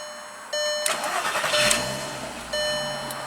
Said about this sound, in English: we'll go ahead and test fire it